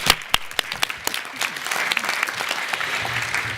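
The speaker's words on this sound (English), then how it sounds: "And I just want to give you a round of applause." An audience in a meeting room breaks into applause, starting with a few scattered, distinct claps that quickly fill into steady, moderately loud clapping from many hands.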